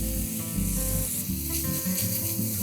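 Pre-chopped bacon dropped into a hot pan with a little olive oil hisses and sizzles steadily, a loud, close, continuous frying crackle.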